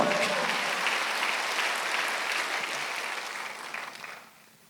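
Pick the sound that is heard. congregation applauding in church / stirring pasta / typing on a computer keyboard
congregation applauding in church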